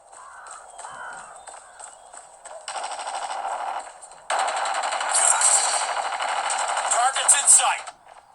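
Rapid automatic gunfire from the first-person shooter Call of Duty 5 rattles in dense bursts that grow louder and heavier toward the end, with a few sharp high metallic accents.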